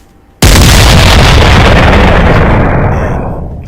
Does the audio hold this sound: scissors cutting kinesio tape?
no